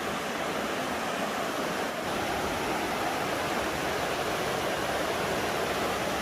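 A river flows in a mountain valley, a steady, full rush of water that holds constant without a break, with no voices.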